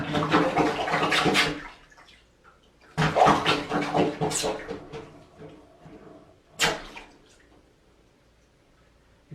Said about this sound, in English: You can hear the water draining,